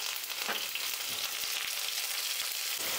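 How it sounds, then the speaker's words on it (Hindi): Onions and curry leaves fry in a pan, a dense close sizzle with soft crackles and occasional stirring clicks, steady and without talk. "बस 2 से 3 मिनट के लिए प्याज को हम फ्राई करेंगे"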